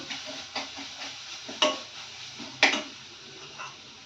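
Potato paratha filling fries in oil in a pan, a soft steady sizzle broken by several light stirring scrapes and two sharper clicks of a utensil against the pan, with no talking.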